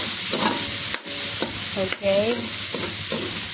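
Carrots are stir-fried with browned tofu in a pan, giving a continuous loud sizzle broken by a few scraping stirs. A voice says a brief word.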